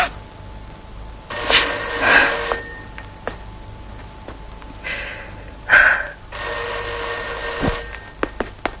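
An old telephone's bell rings indoors in two loud bursts with a pause between them, over a quiet room with faint breathing.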